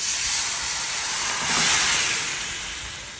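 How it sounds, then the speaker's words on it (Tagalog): Marinated chicken hits a hot pan for chicken hamonado, raising a loud, broad hiss that swells in the middle and then eases off slightly, with no talking. "Hulog na po natin ang minarinade na chicken."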